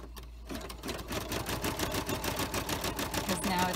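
A home sewing machine stitches a slider piece onto a pet collar, a rapid, even run of mechanical clicks heard up close that starts after a brief pause and continues steadily.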